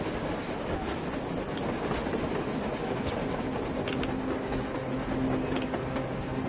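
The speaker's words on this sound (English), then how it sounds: "A train! A damn train on the surface!" A train in the video game Metro Exodus rumbles past continuously, wheels clacking over rails with a faint metallic squeal, loud and steady throughout.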